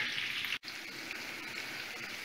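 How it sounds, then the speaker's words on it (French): Onions frying in oil and butter in a pot for paella, a steady close broadband sizzle with one brief dropout near the start, no voices. "les oignons vont bien être rissolés, frits, et il faut pas les faire brûler"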